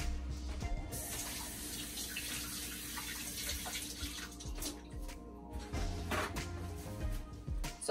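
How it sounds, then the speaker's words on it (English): Tap water runs steadily into a kitchen sink during hand washing, a continuous close splashing stream with small fluctuations and no talking. "let me wash my hands and I'll be right back"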